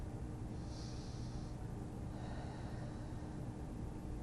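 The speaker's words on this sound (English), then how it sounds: "And 6 deep breaths again." Slow, deep breaths drawn in and let out during a beginner flexibility workout, a soft airy inhale-exhale cycle heard close and steady over a faint background hiss, with no talking.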